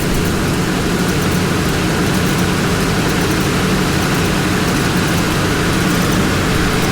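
A 20 horsepower motor drives both heads of a 2019 Felder FW 1102C 43-inch two-head wide belt sander, giving a steady, loud, low-pitched industrial drone and hum that holds constant with no break.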